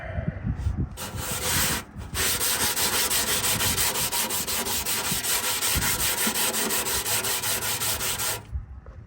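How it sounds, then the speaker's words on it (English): Sandpaper scuffs the old paint on a 1982 Toyota pickup truck, a loud, close, continuous back-and-forth rasping in fast strokes after a brief start-stop. "Time to get to scuffing."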